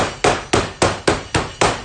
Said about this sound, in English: I use the wide part of the hammer.